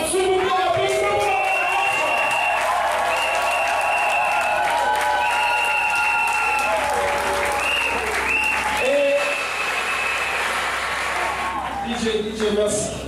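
A hall full of guests at a family customary wedding celebration applauds steadily and loudly for over ten seconds, with music tones and crowd voices layered over the sustained clapping.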